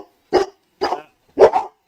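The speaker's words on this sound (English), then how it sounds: "them dogs again." Dogs bark nearby in three sharp, separate bursts spaced roughly half a second apart, the last a quick double. Silence falls between the barks, with no talking.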